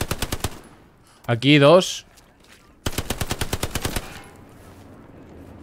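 Gunfire in the WWII shooter Hell Let Loose: rapid close machine-gun bursts, a short pause with someone briefly speaking, then another long automatic burst that fades into a faint tail.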